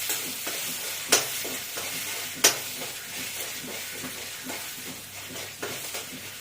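Food sizzles steadily in a pan while a utensil stirs it, with a couple of sharp scraping knocks against the metal and softer scrapes, close by and without talk.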